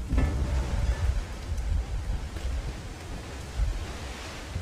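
Strong outdoor wind on a very windy day, gusting and buffeting against the microphone with a broad rushing roar, steady and fairly loud with brief surges and no talking.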